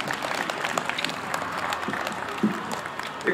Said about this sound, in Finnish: annetaan vielä kaikille näille harrastajille niin iso käsi aplodit